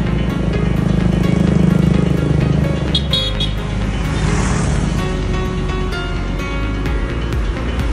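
A Hino RK 260 truck with air suspension runs a drift test, its engine a loud, steady roar that fills the whole stretch, with a brief sharp burst partway through and no talking.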